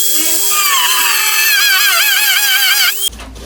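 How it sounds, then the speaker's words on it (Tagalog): An angle grinder blade bites into a box, giving a loud, high-pitched whining squeal that wavers in pitch for about three seconds, then cuts off abruptly into a lower hum. "Kaya gagamitan natin ng blade ng grinder."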